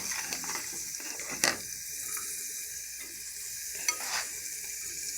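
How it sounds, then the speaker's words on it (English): Onion frying in melted bacon grease in a small pan: a steady, close hiss of fat with soft stirring scrapes and a couple of brief clicks, no talking. "in a small pan, I am melting some bacon grease and I'm also going to add some onion to"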